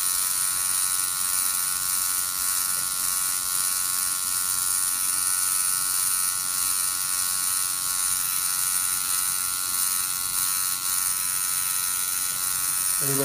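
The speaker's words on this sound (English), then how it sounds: "Everybody's just liking the sound of the machine." A tattoo machine buzzes steadily during a live tattoo session, a dense, unbroken electric whine holding at an even, close level throughout with no voices over it.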